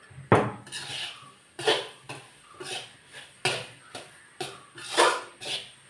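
Bonda is stirred in melted jaggery in a pan with a utensil, giving a close series of about ten rhythmic scraping clanks of metal against the pan, each stroke swelling and fading in an even back-and-forth pattern.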